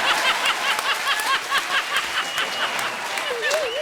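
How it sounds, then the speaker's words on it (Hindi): Audience applause at a live comedy show carries on steadily in the background while a voice speaks over it, with a brief tonal warble near the end. "जोरदार ताली हो जाए रूप कुमार के लिए"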